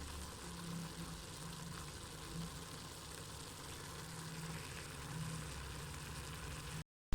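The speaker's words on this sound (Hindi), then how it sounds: "इसको अच्छी तरीके से हम 2 से 3 मिनट के लिए ऑयल के अंदर फ्राई कर लेंगे" White beans (lobia) frying in hot oil for a dhaba-style masala give a steady, even sizzle that fills the whole stretch at moderate loudness, with no voices.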